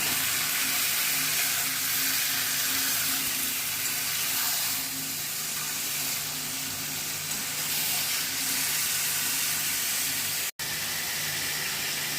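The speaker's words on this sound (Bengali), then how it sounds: "মাটনটা দেওয়ার পরে ভালো করে একটু নেড়ে চেড়ে কষিয়ে নিতে হবে" Mutton stir-frying in a pan for a Bengali goat curry, a dense continuous hiss of sizzling and steam with faint stirring underneath, loud and steady throughout with a brief dropout near the end.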